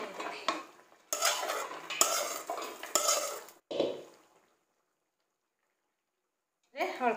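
Cooked rice stirred into ghee in a pan: a few loud bursts of scraping and clattering from the spoon against the metal, then silence, with a voice starting at the end.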